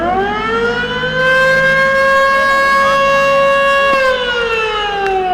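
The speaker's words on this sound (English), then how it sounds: "that should be just the meeting night siren." A civil defense siren marking town meeting night at a youth pony softball game, one loud, steady wailing tone that holds and then starts to wind down, with no voices over it.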